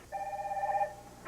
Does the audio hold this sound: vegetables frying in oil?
no